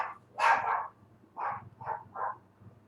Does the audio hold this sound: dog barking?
yes